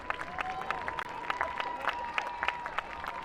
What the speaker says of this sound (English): let's serve the synchro pair, Red 8, a massive round of applause